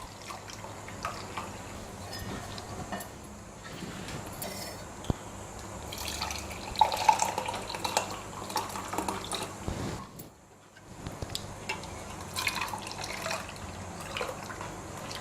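Boiling water poured over green tea leaves in a strainer: a faint, steady stream trickling and splashing through the leaves for several seconds, with a short pause partway and quiet background noise throughout.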